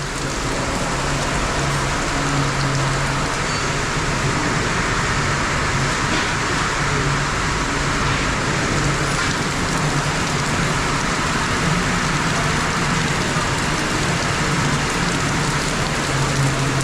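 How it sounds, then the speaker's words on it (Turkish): Steady, heavy rain pours continuously, a dense hiss of drops on surfaces with a faint low rumble of traffic underneath. "Hiç durmadan yağıyor, hiç durmadan."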